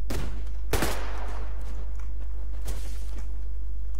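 Gunfire in the online shooter Survarium: a few sharp, loud shots ring out with reverberant tails, spaced apart over a steady low hum, with no talking.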